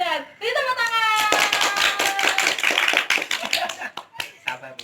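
A classroom of students claps together for a correct answer, a dense burst of hand claps starting after a second and fading near the end, with voices talking and laughing underneath.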